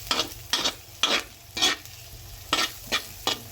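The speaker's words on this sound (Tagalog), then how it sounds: "Gigisa na tayo para labasin muna natin yung kaluluwa ng sibuyas." Onion and garlic sautéing in a pan for pork menudo, heard as short bursts of hissing sizzle in an uneven rhythm, about seven surges of sputter with quieter gaps between, close and unaccompanied by speech.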